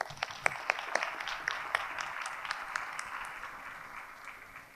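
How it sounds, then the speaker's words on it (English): An audience at a senior honors and awards ceremony claps for class representatives, scattered distinct hand claps forming steady applause that gradually fades, moderately near in a large hall. "And another special applause for our class representatives."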